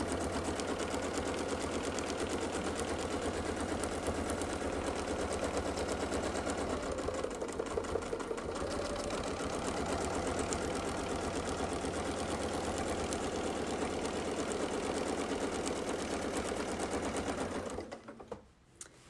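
A sewing machine runs steadily for about eighteen seconds, stitching a quilt along a Westalee Mini Baptist Fan template, with a dense even whir that cuts off abruptly near the end.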